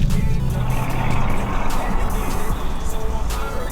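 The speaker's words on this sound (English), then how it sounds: "It's a Hellcat Redeye." A 2020 Dodge Challenger Hellcat Redeye with a Demon engine driving, giving a loud, close, steady engine roar with dense low rumble that holds throughout.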